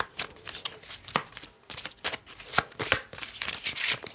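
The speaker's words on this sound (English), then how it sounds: "I will also pull some Lenormand Oracle cards for us." Lenormand oracle cards are shuffled by hand in a quick, papery riffle of repeated soft flicks and slaps, close and fairly loud, with no voices over them.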